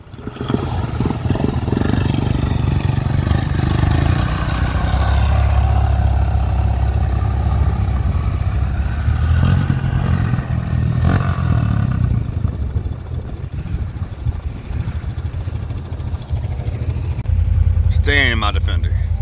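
A Defender off-road vehicle at an ATV park revs hard in first gear, a loud, rough, low engine roar that rises and surges, with people talking and shouting over it.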